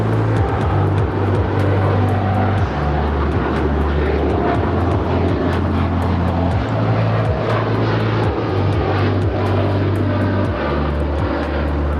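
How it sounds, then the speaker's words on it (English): An American Airlines Boeing 787-8 Dreamliner departs on a flight to Chicago, its engines a loud, steady roar that holds throughout, with low rumbling drones and faint clicks and ticks over the top. "This is American Airlines 1598 Heavy departing to Chicago. It's a 787-8 Dreamliner."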